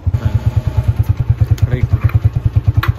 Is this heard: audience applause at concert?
no